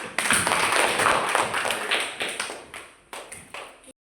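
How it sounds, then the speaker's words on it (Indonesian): A class claps hands in a short burst of close, sharp claps that quickly thins into a few scattered, separate claps before stopping abruptly. "Iya, tepuk tangan"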